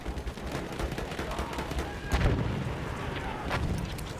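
A grenade goes off during multiplayer combat in the World War I shooter Battlefield 1: a heavy, close blast lands midway through a steady crackle of distant gunfire and battle noise.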